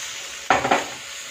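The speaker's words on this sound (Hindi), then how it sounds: "इसको 2 से 4 मिनट तक मैं फ्राई कर लेती हूँ।" Vegetables for veg hakka noodles hit the pan and fry, a sudden loud sizzle with a couple of stirring scrapes that quickly settles into a steady low hiss.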